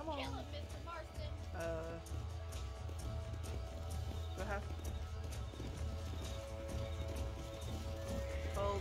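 In the Western video game Red Dead Redemption, a horse's hooves clip-clop in a steady gallop and it neighs several times. Game music and a speaking voice run underneath.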